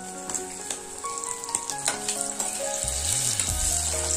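Baby potatoes drop into hot oil in a kadhai and shallow-fry, with a steady close sizzle and a few clinking stirs and taps over the bubbling.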